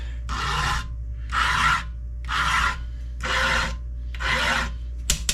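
A hand file rasps across chainsaw rakers in five steady, evenly spaced strokes, close and loud over a low constant hum, ending with a couple of quick metallic clicks.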